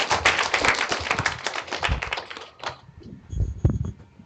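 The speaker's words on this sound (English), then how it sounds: "Please give a round of applause for this great voice." A class claps for a student, a dense burst of applause close by that thins out after about two and a half seconds, followed by scattered taps and thumps in a room.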